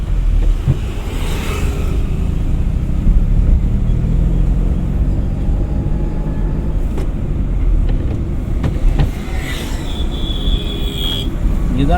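A driving-school car pulls away under acceleration and shifts up into second gear during a lesson, its engine rumble and road noise loud and steady throughout, with faint chatter at times.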